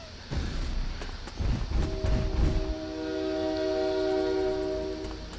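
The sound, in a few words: passing train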